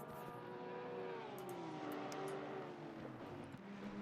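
Race cars in a racing video game circle the Nurburgring, engines droning and shifting pitch as they pass, a steady layered whine at low volume.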